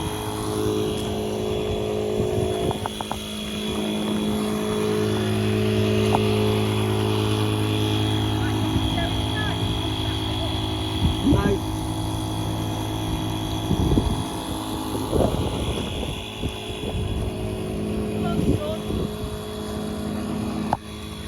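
A continuous electric pump motor drone hums steadily throughout, inflating a Dometic Residence All Season awning, with occasional knocks and rustles and brief bits of talk.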